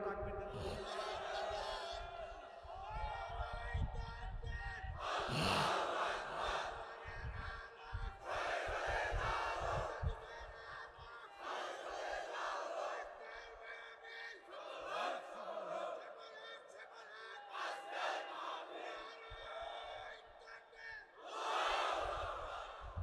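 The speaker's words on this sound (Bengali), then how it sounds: "এখন সবাই একটু তাকবীর দেন তো দেখি।" A large congregation at an outdoor Bengali Islamic sermon shouts takbir in repeated loud bursts, several waves of massed voices rising and falling between stretches of a preacher's amplified talk.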